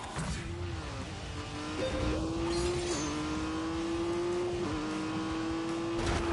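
A Honda NSX sports car engine holds a steady, rising drone, with small shifts in pitch as it revs and runs at speed.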